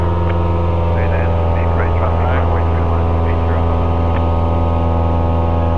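Light aircraft piston engine and propeller drone steadily and loudly in flight as power is reduced during circuit training, with a constant cockpit hum and speech from the crew over it.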